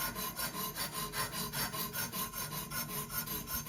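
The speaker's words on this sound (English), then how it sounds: "So I'm starting off with a 150 grit on these spokes, and just round it off." Steady back-and-forth rasping of 150 grit sandpaper rounding off the spokes of a Stirling engine flywheel, a rhythmic rubbing of about four strokes per second, close and continuous with no talking.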